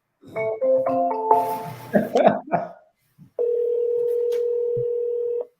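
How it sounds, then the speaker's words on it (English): Touch-tone beeps of a phone dialing a home landline come in a quick run of short stepped tones, then voices and clicks briefly, followed by a steady, loud ringback tone lasting about two seconds. "I'm gonna try to call their home line."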